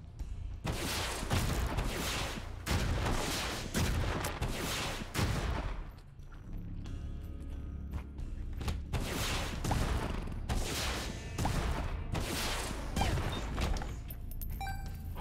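Homing missiles exploding in Binding of Isaac: Repentance, a dense, continuous barrage of loud booming blasts and crashes, one burst after another with brief dips, no talk.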